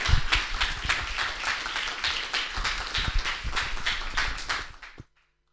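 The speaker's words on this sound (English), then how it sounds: "another warm applause for Anne Berghöfer" Audience at a talk on the healing arts claps warmly, dense rapid applause from a modest crowd heard up close, continuing for about five seconds before stopping abruptly.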